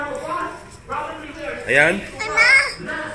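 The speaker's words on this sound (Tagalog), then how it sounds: "yung mga bata naglalaro" Children play and chatter nearby, high excited voices rising and falling in short bursts with some squeals, loud and close.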